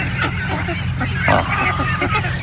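Free-range ducks on a farm honk and quack in a close, busy cluster, with overlapping calls throughout and a person talking in the background.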